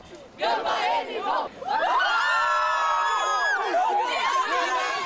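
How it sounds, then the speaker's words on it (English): Crowd of football fans outside the Gama Stadium in Brasilia, cheering, whooping and chanting in unison while awaiting the Japanese national team, loud and close throughout with a sustained collective shout in the middle. "Dozens of cheering fans waited outside the Gama Stadium in Brasilia on Thursday for the arrival of the Japanese football team"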